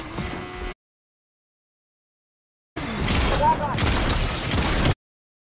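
Rapid gunfire in the Fortnite video game, a dense burst of shots lasting about two seconds after a stretch of silence, loud and close.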